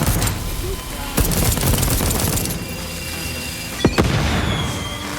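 Gunfire in the video game Deathloop, a dense run of loud shots and bursts with sharp pops near the start, middle and end, over steady game noise.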